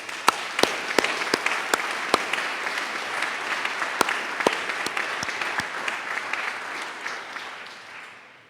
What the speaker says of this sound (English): Let us give a huge round of applause and appreciation to what they've done to your parents.